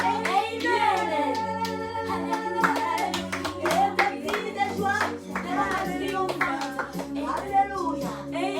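Congregation at an evening Easter prayer service clapping in acclamation, steady rhythmic claps over sustained music with singing and voices throughout.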